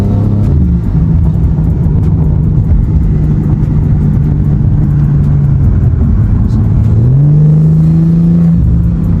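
A tuned 700 hp BMW G80 engine drones loudly at a steady pitch, then revs up sharply near the end, heard close from inside the car.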